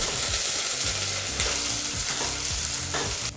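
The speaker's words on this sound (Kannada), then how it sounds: "ಈಗ ಈ ಈರುಳ್ಳಿನ 4ರಿಂದ 5 ನಿಮಿಷ ಫ್ರೈ ಮಾಡಬೇಕಾಗತ್ತೆ." Onions frying on low flame for idli sambar, a continuous close sizzle with rhythmic spoon stirring and scraping in the pan.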